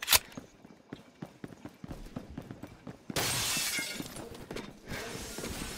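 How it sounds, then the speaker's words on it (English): In-game glass shatters in the Roblox shooter Phantom Forces, a sharp loud crash of breaking panes followed by scattered tinkling debris, amid clicking footsteps and a burst of broadband noise. "it's so satisfying on how in-game glass breaks"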